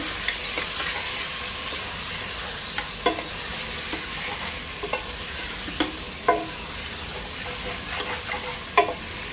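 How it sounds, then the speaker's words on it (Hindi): Mutton bhuna cooked dhaba style with a spoonful of yogurt sizzles continuously in a pan, broken by regular scraping and clinking strokes of a stirring spoon. "1 टेबलस्पून मैंने इसमें दही भी डाल दी है। और अब इसकी भुनाई करेंगे।"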